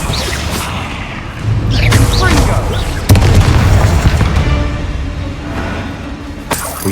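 A Bombardier spell goes off in Hogwarts Legacy with a loud, deep booming blast and rumbling debris, over game noise while someone talks.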